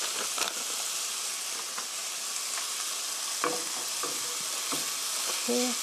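Meat sauce for an omelette is gently stirred in a hot pan, a constant sizzling hiss with occasional soft scrapes and clicks of the utensil, close and steady, with no one talking.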